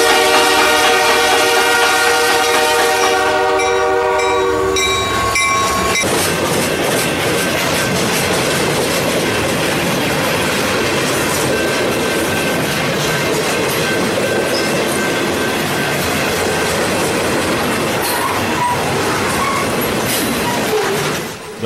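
A train rolls past at the Historic Appomattox Railroad Festival. It opens with loud, sustained horn blasts, then gives way to a dense rumble and rhythmic clickety-clack of wagons that continues close and loud to the end.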